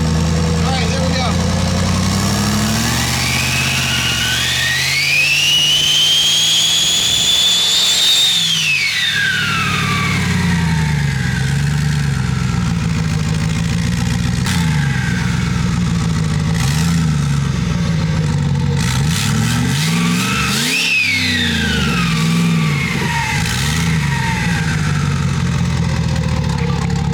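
Ford F-150 with a turbo mounted on the truck bed, engine running loud and close with rising and falling revs and a turbo whine sweeping up and down, while a voice talks over it.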